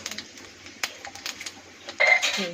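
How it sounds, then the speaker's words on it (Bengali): Asafoetida is stirred in hot oil in a cooking pan, producing quick light metallic taps and scrapes of a spoon against the pan, irregular and close, ending in a brief louder sizzle and rattle, with no talking. "হিংটা ভালো করে নাড়বে"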